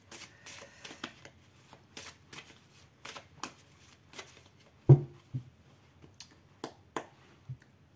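An Oracle Miroir deck of oracle cards is shuffled by hand in a series of short, crisp riffling bursts with brief pauses between them, close and quiet, with one sharper tap midway.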